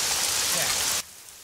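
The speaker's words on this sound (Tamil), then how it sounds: "ஓ, மழை வேற பெய்யுதே." Steady rain falls in a broad, loud hiss for about a second in a Tamil action film scene, then cuts off abruptly to near silence.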